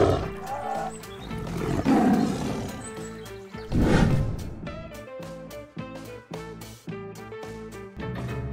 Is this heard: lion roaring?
yes